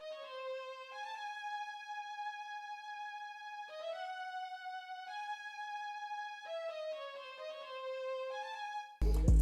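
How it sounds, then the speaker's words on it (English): A quiet bowed-string cello patch in FL Studio plays a slow, sparse dark UK/NY drill melody of held notes stepping up and down, ending in a sudden loud burst. "put it in this like cello patch right here"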